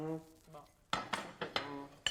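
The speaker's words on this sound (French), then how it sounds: "Du coup, elle a décidé de faire la vaisselle." Dishes and cutlery clink during washing up: a faint voice at first, then a quick run of five or six sharp, close clatters of crockery and metal in about a second.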